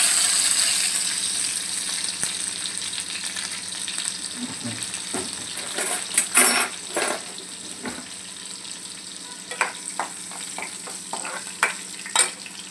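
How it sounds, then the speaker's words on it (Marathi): Mustard seeds, cumin and green chilies sizzle and crackle in hot oil in a pan while kanda poha is cooked, giving a steady frying hiss broken by scattered pops and stirring clinks. "तेल गरम झाले, आता आपण राई टाकू, जिरा, आता आपण यात हिरवी मिरची घालू"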